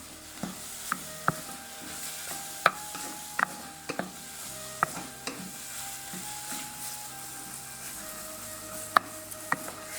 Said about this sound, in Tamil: அதுக்காக சிம்மில் வச்சுட்டு நம்ம மெதுவாக கலரிண்டே இருக்கணும்.